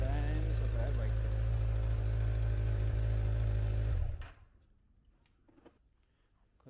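A Yamaha MT-09 motorbike, an older model, idles with a steady low engine rumble for about four seconds, then cuts off abruptly, leaving faint background noise and a few soft clicks.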